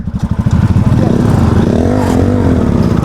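A Royal Enfield Bullet motorcycle thumps along while being ridden, its loud pulsing engine beat close and steady, with someone talking over it.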